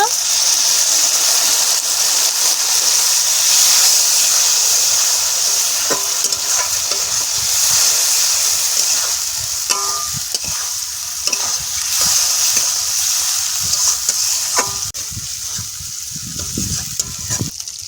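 Spice masala fried in a pan with mustard paste and water, a steady loud sizzle with intermittent scraping and stirring clatter throughout, easing slightly toward the end.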